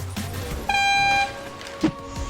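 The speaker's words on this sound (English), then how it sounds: "And so was my air horn." A loud, sustained horn blast with a bright harmonic tone lasting about half a second, followed by a short thud amid background game sounds.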